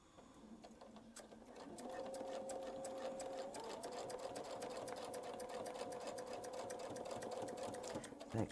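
A sewing machine stitches a line of ribbon onto fabric. After a quiet opening second or so, it starts up into a continuous, even whirring hum with rapid stitch ticks, soft and close, with no speech.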